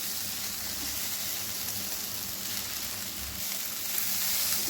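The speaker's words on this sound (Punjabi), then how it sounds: "ਹਲਕਾ ਜਿਹਾ ਭੁੰਨ ਲਾਂਗੇ ਜੀ ਇਹਨੂੰ ਵੀ ਹੁਣ ਅਸੀਂ ਤਾਂ ਕਿ ਹਲਦੀ ਜਿਹੜੀ ਹੈ ਉਹ ਚੰਗੀ ਤਰ੍ਹਾਂ ਮਸਾਲੇ ਦੇ ਵਿੱਚ ਰਚ ਜਾਵੇ" Spice masala with turmeric sizzles in hot oil as it is lightly roasted for a fried bhindi sabzi, a steady close hiss that stays at an even level throughout.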